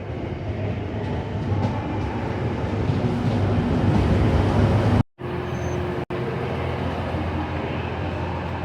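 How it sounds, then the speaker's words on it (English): A TransPennine Express train bound for Huddersfield pulls into a station, its loud, steady rumbling roar close by and continuous, with a brief cut in the middle. "And here is the train I will be taking to Huddersfield."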